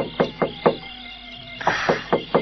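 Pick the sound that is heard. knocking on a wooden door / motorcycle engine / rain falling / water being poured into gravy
knocking on a wooden door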